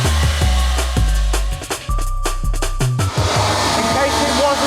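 Mazda MX-5 engine under load on a dyno, a loud, harsh roar with rising and falling pulses that steps up sharply as a valve opens.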